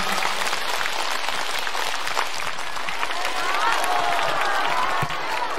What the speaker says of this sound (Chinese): 让我们再次以热烈的掌声感恩大慈大悲的观世音菩萨，感恩大慈大悲的卢军宏台长。